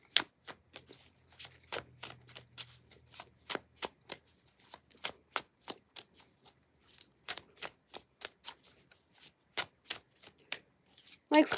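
A deck of cards being shuffled by hand for a card reading: brisk, crisp riffles and taps in irregular bursts with short pauses, close and fairly quiet, with a person speaking at times.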